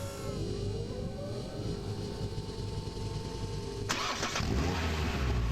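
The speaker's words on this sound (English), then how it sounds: "This is the sound of a car engine." A car engine cranks and fires up, the start-up turning into a louder, steady running engine close by, with no talk over it.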